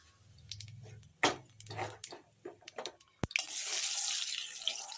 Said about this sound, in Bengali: তেল গরম হয়ে গেল এখন কালো জিরে ফোড়ন দিয়ে দিলাম